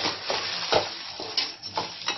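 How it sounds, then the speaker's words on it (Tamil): Fenugreek seeds are dry-roasted in a pan for homemade chilli powder, a quick bout of rustling, scraping stirs with soft crackling, close and alone. "கொஞ்சம் நேரமா வறுக்கணும், இல்லைன்னா கசப்பா இருக்கும்"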